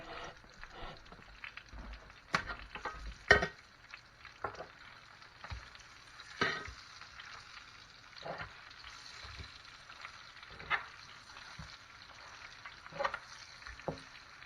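Chicken frying in bacon fat in a Presto electric skillet, a faint steady sizzle with occasional louder clatters and shifting pieces, close by and without talk.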